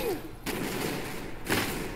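Rapid gunfire from guns in the Roblox Arsenal video game, a dense, steady fusillade of shots lasting about two seconds with a brief gap near the start.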